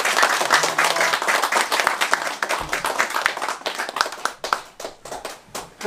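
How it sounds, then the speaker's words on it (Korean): Audience applause at a Korean lecture event honoring a district head, a crowd clapping steadily for about six seconds, individual hand claps distinct at close range and gradually thinning toward the end. "최진봉 중구청장께 여러분 뜨거운 박수 보내주시기"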